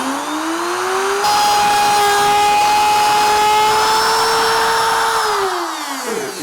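A router mounted in an Enjoywood router lift makes a shallow pass cutting a track groove in wood: a loud, steady high-pitched whine held for several seconds, then winding down at the end, with no speech.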